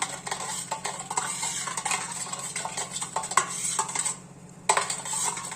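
A spoon stirs a pizza yeast mixture with sugar in a bowl, giving repeated scraping and clinking strokes at a brisk, uneven rhythm, close and fairly loud, with a brief pause near the end.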